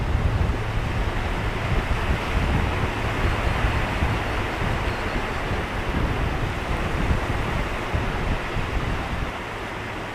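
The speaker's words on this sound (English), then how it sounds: "Do you see those surf breakers coming in?" Surf breakers rolling onto the shore near the old Solway viaduct remains, heard as a continuous loud roar and wash of waves mixed with heavy wind buffeting the microphone.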